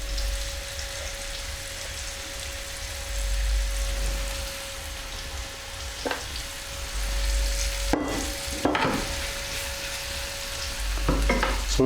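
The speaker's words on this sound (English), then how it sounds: "So we're going to be frying this beef for about 4 minutes." Beef pieces fry in hot oil with a steady, soft sizzle throughout, broken by a few sharp clacks and scrapes of a utensil turning the meat in the pan.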